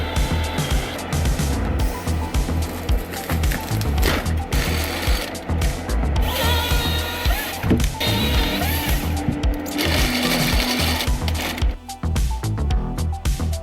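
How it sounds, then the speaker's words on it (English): A forestry crane arm on a wood-processing machine cutting timber outdoors in wild nature, giving a loud, continuous mechanical roar with a steady, rhythmic grinding throughout and no voices. "Its sound is impressive, rhythmic as the crane arm descends, cutting wood with precision and delicacy."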